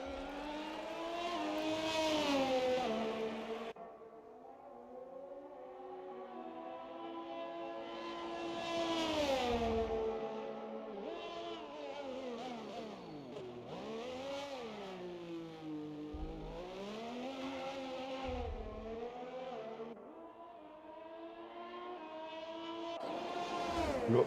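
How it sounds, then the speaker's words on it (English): Race cars lapping the Austrian GP circuit in a racing video game, engine notes rising and falling in sweeping pitch glides through gear changes and corners, loud and continuous with no talk. "But little Daz is going to start another quick lap here"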